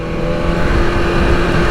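BMW M1000RR motorcycle engine held in third gear on a highway, a loud steady drone with constant revs and no pauses, heard alone throughout.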